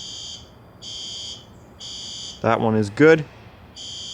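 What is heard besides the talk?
fire alarm system sounding during monthly test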